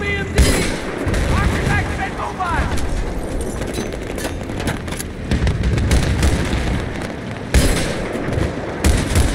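Sustained gunfight in Battlefield 3's campaign, with dense, loud bursts of automatic gunfire, sharp rifle cracks and heavy booms rolling on for the whole stretch, accompanied by occasional talking.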